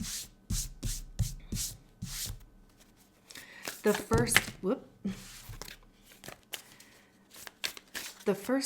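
Oracle cards being shuffled and pulled for a reading, a run of quick papery riffles and rubs up close, followed by softer card slides and taps.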